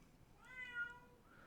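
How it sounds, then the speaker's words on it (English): A cat gives one drawn-out meow, fairly quiet against a steady low background hum, heard alone with no talking. "Shut up, cat."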